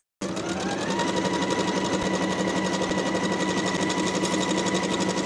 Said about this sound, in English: Sew from top to bottom on both sides with a 3/8 inch seam allowance.